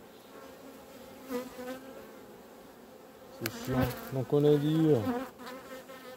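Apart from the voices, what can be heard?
honey bees at a beehive frame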